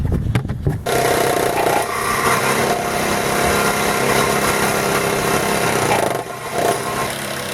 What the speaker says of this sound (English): Some kids cutting it up with a sawzall in America.